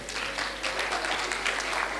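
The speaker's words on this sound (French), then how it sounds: "je voudrais, chers élèves, que vous applaudissiez vos professeurs" A hall of students at a school book-week slam contest applaud their teachers with a dense, sustained patter of clapping. It sounds somewhat distant, over a low steady hum, with no speech.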